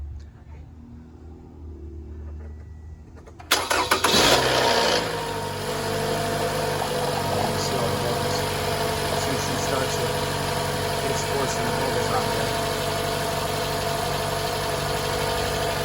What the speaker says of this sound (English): my wife's going to start the car up, and we're going to let this run